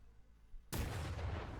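Skull cannon fire from Warhammer Battlesector erupts as a sudden loud, broadband blast after a quiet stretch, then holds as a dense roaring barrage of game artillery.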